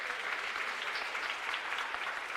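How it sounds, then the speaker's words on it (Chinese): Steady applause from a wedding crowd for the bride and groom, an even wash of clapping that holds through the whole moment with no talk over it. "给他们一个掌声"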